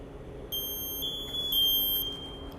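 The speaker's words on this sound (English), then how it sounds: "To check for the medium air tone" A steady high-pitched electronic tone from an MSA G1 breathing apparatus, its half-full medium air warning, sounds continuously for about two seconds over a low hum, with no talking.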